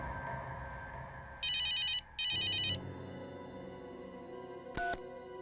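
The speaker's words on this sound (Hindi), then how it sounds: "अभी 1 मिनट में फोन की रिंग बजेगी" A telephone rings in a scene from the Hindi crime drama CID, two loud electronic ring bursts separated by a short gap over a low background hum, followed by a brief click.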